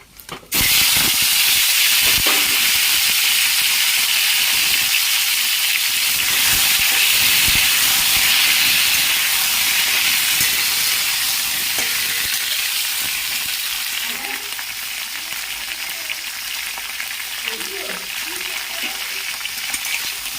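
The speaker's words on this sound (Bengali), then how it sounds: "তিল গরম হয়ে গেছে আমি পাঁচফোড়ন দিয়ে দিচ্ছি তোমার টমেটো চাটনি বসাচ্ছি" Panch phoron, the Bengali five-spice mix, frying in hot oil at the start of a tomato chutney: a loud, steady, close sizzle with no break, easing slightly toward the end as faint stirring clicks come through.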